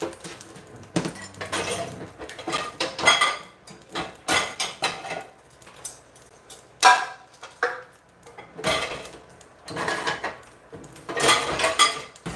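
A cooking pot handled in a home kitchen during curry dinner preparation gives loud, close metallic clanks and knocks in irregular bursts separated by short quiet gaps.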